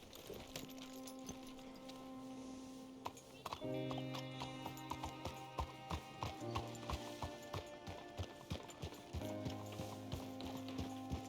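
Horse hooves clip-clopping at a walk in Red Dead Redemption 2, a regular close rhythm of steps over a bed of tonal game music, with a brief whinny and occasional voices.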